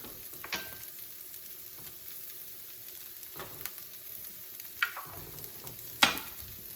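Broccoli frying in olive oil, a continuous close sizzle with occasional stirring scrapes and a few sharp clicks and knocks near the end, no talking.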